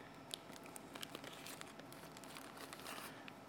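A special camera sensor cleaning cloth being unpacked, with close, quiet crinkling and rustling of its wrapper in quick irregular bursts.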